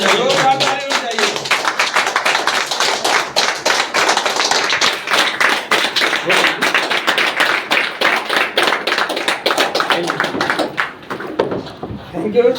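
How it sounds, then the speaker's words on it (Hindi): A crowd at an indoor product-training meeting claps hard and continuously, a thick wash of hand claps that carries on for most of the stretch before thinning near the end, with some voices underneath. "जोरदार ताली होनी चाहिए।"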